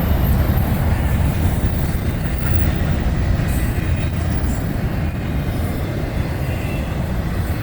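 An intermodal freight train with container cars rolls past close by between Fort Lauderdale and Fort Pierce, a loud, steady rumble of wheels and rail noise with faint squeals, sustained throughout with no talking.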